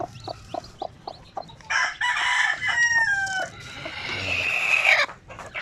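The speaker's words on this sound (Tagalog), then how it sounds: "Tingnan natin yung mga sisiw." Chickens and newly hatched chicks on a farm make short repeated clucks, followed by a loud rooster crow and more squawking calls, close and clear, with no talk.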